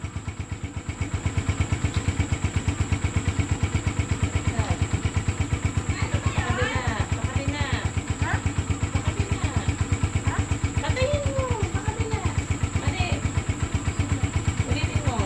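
A motorcycle engine started by a boy settles into a steady, rapid idle putter, close and loud for the whole stretch, while people talk over it in the background.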